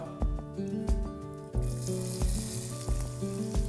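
Cinnamon and bay leaf sizzling in hot oil for dum aloo kali mirch, a loud steady frying crackle with repeated thumps and clinks of a utensil against the pan, the sizzle brightening partway through, no voices.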